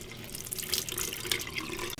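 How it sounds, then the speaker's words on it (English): Leftover seafood meal liquid poured down a hotel bathroom sink at the Marriott Marquis San Francisco: a soft, continuous splashing trickle of water into the basin, fairly quiet and close, stopping abruptly near the end. "take it over to your bathroom and you can just pour it right down the sink"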